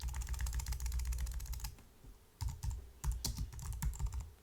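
Steady typing on a computer keyboard, fast clattering keystrokes in two bursts separated by a short pause, close and clear with no talking.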